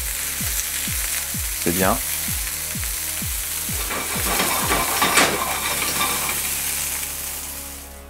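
Vegan meatballs frying in a pan, a steady loud sizzle and crackle with repeated scraping stir strokes of a utensil against the pan and a brief spoken comment.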